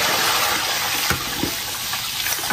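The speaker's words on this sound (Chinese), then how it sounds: "炒香加水" Water gushes steadily into a wok of hot oil after scallion, ginger and garlic have been fried with salt and sugar, a continuous close rushing pour with small splashes.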